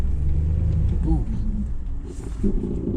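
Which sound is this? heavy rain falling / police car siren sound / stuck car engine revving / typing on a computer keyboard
stuck car engine revving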